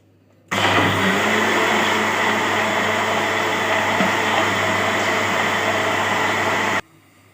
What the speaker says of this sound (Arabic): بعد ما ضربناه في الخلاط كده ضربة حلوة